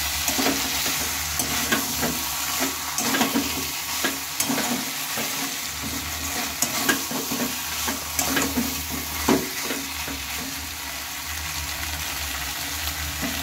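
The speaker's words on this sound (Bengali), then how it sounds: "আর এইভাবে নেড়ে চেড়ে কিছুক্ষণ মশলার সাথে সয়াবিনটাকে কষিয়ে নিতে হবে।" Soybean chunks frying with spices in a pan, a steady loud sizzle running throughout while a spatula stirs and scrapes in frequent short strokes close by.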